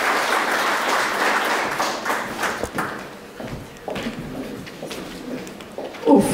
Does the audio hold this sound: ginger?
no